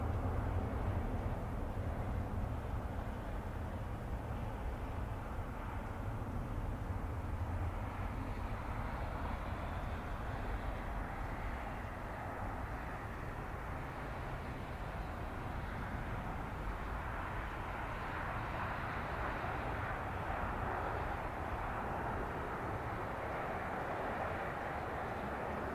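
A long-haul airliner, an Airbus A340 or a Thai Airways Boeing 777, roars continuously at Zurich Airport, a steady broadband engine rumble that holds level and swells slightly toward the end, with no talking.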